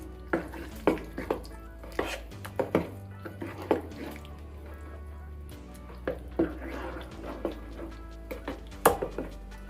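Fermented dosa batter being stirred by hand in a pot, with soft repeated wet slaps and scrapes in an uneven rhythm, close and moderately loud against a low steady hum.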